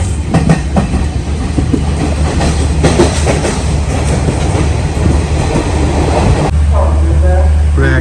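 A passenger train runs from Colombo toward Nuwara Eliya in Sri Lanka, heard from inside as a loud steady rumble with rhythmic wheel clatter, and a voice talks near the end.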